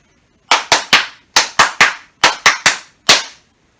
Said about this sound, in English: I would like to demonstrate the Ippon Jime, which is 3 sets of 3 claps and 1 final clap.